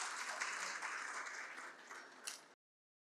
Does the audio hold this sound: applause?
yes